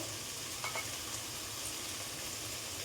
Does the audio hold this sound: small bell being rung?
no